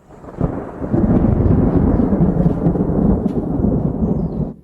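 A thunderstorm with rain rumbles steadily, a low rolling roar of thunder over the hiss of rainfall, building quickly and holding loud for several seconds before a sharp burst at the end.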